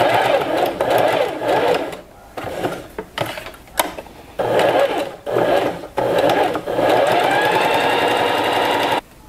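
A sewing machine topstitches elastic onto a pet collar in several close, loud bursts of rapid whirring stitching, separated by short pauses.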